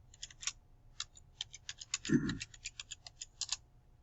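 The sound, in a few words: typing on computer keyboard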